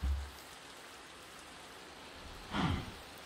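Steady soft rain patter in a hardcore farming video game, a continuous wash with a brief louder gust or rumble near the end.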